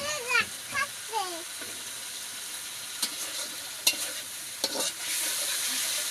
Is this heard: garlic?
yes